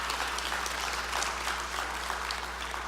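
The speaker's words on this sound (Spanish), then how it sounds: "Un aplauso fuerte para ellos, ¿verdad?" Church congregation applauding the youth group, a dense, steady patter of many hands clapping at once, sustained at moderate volume with a low hum beneath.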